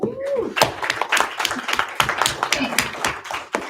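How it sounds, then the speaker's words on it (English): Audience applause for a presenter at the close of a talk on an automated LLWW model for predicting wetland function: a few seconds of scattered, uneven claps from a small group, steady throughout with some voices mixed in. "how about a round of applause for Woo!"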